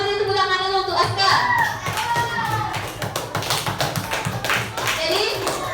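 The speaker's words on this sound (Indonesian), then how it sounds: "Kita beri tepuk tangan dulu untuk Aska." Classroom applause for a pupil in a fifth-grade elementary class: a burst of many children clapping close by, steady and busy, with children's voices and chatter mixed in.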